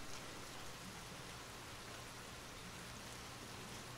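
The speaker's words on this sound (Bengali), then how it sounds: "প্রচন্ড জোরে বৃষ্টি হচ্ছে" Heavy rain pours steadily in an animated story, a constant close hiss with no breaks and no voices over it.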